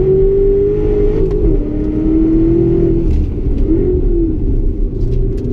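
A 627-hp Callaway Corvette works around a figure-eight handling course, its engine rumbling loud and close with a steady drone that dips and rises as the throttle changes, no talking.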